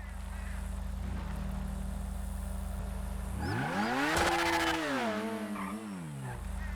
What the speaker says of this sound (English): just to pick up the rest of that engine noise as it goes by